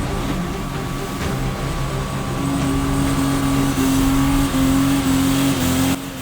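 A Toyota Land Cruiser 4.5 engine drones loudly and steadily on rough off-road terrain, its pitch climbing as it revs and accelerates, heard up close with no talking.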